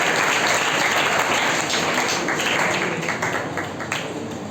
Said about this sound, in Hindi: 4 तालियों से इनका स्वागत है।